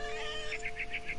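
A cat meowing in The Remains of Edith Finch, a short high mewing call, close and clear over a faint steady hum with no talking.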